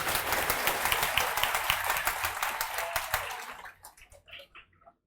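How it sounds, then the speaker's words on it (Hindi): An audience at an interview event for a Bihar police sub-inspector excise post claps loudly in dense, sustained applause that thins out into a few scattered claps before stopping. "तो एक बार प्रमोद यादव जी के लिए जोर से ताली बजाइए सब लोग"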